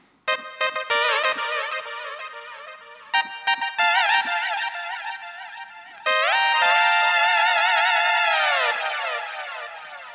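Funky synth riff on a Roland JX8P, bright stacked harmonic chords in short rhythmic stabs that give way to a long sustained, wavering chord, loud and alone with no talk.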